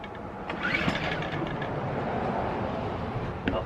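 A portable generator engine with its choke on is cranked and catches, rising into a rough, steady mechanical running drone close by, with sharp clicks at the start and end.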